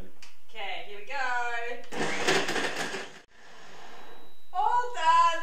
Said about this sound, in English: And you're going to pop it in your blender. That's gonna kick around a bit because those dates are quite firm.